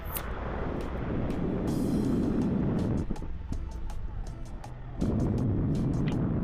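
A hired car driving around the golf course at Gulmarg, heard from inside as a loud, steady road rumble, with a brief quieter stretch and a scatter of small rattles and clicks over the drone.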